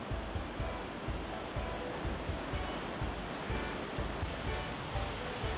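Ocean surf pounds the shore during a king tide at Shore Acres State Park, a loud continuous wash of breaking waves with gusty wind noise and no voices.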